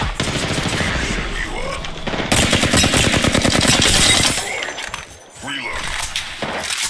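Rapid automatic gunfire in Apex Legends, a dense burst of loud, fast shots that runs several seconds, with sharp impact cracks and people talking over the shooting.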